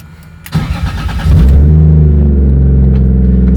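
A BMW E36 318 fitted with a six-cylinder engine in place of its usual four: the starter cranks briefly, then the engine catches and settles into a loud, steady, close idle rumble.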